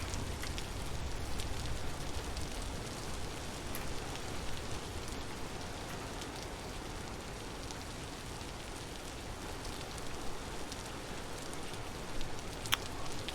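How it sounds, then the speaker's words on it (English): Steady rain falls in the survival game Vintage Story, a dense, even hiss of drops pattering on surfaces that holds unbroken throughout with no speech. "And the rain's not helping either."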